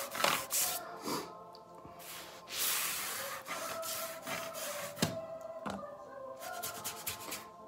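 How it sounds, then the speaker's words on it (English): A toothbrush scrubbing bathroom floor grout, rhythmic bristly rubbing strokes close by, with a few sharper knocks mixed in, no voices. "I'm cleaning the grout in the floor in the bathroom. But since I didn't have the proper scrub brush, I'm using her toothbrush."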